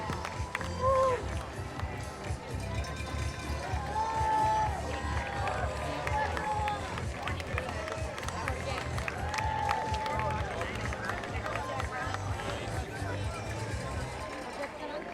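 Spectators at the Falmouth Road Race finish clapping and cheering, a steady crowd din with scattered whistles and claps, a voice talking over it.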